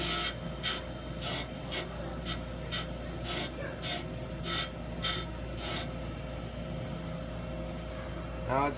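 A skate sharpener's grinding wheel being dressed, the dresser moved up and down across it, giving a continuous rough grinding hum with a run of regular brighter scraping bursts.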